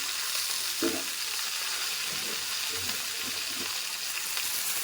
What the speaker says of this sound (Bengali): তো আমি আবার ফুলকপিগুলো ভেজে নেবো, সব দিয়ে দেবো।